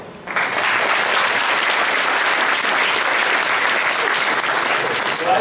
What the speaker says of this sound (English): A round of applause for the fanless all-in-one platform.